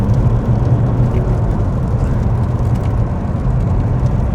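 Toyota Avensis 2.2 D-4D diesel car accelerating, a steady low engine drone and road rumble from inside the cabin, loud and continuous without talk.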